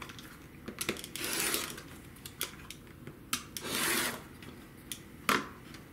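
A quilt block is trimmed to 9 inches against a ruler, heard as a few close, separate bursts of rasping cutting, two longer strokes among shorter scrapes and taps, with no talking.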